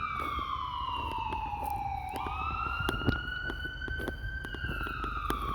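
A loud ambulance siren wails steadily, its pitch sliding down then jumping and climbing again, with traffic rumble underneath.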